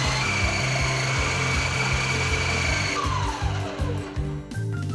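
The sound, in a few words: electric grater processing raw papaya pieces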